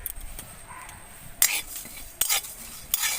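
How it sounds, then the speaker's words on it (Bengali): Cumin, coriander and fennel seeds with a bay leaf dry-roast in a kadai, the spatula scraping and rattling them in short intermittent bursts over a soft background rustle. "তো কড়াই আমি এই যে শুকনো মশলা নিয়েছি, এটা ভেজে নেব।"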